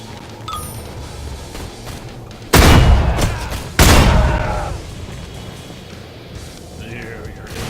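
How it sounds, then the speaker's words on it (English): An explosive shotgun fires twice in the video game Rise of the Triad, two loud booming blasts about a second apart, each decaying into a rumbling tail over low game ambience. "I'm gonna try this one then. Explosive shotgun."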